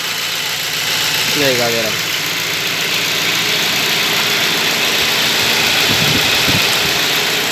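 A car engine idles steadily up close with a constant drone and a high whine over it, after water is poured onto a noisy drive belt; someone speaks briefly over the running engine.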